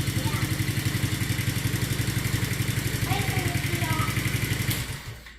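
A Paw Patrol kids' four wheeler's small engine runs steadily close by with a fast, even putter as a child works the throttle, then cuts off near the end; a few faint voices come through underneath.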